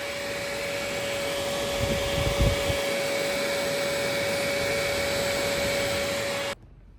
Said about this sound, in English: Let's see if we can hear it when if we kill the motor. And you can hear it.